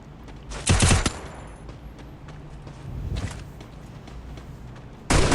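Bursts of gunfire from the video game Free Fire: a loud rapid volley early on, a softer burst in the middle and another sharp burst at the end, with quieter game noise between.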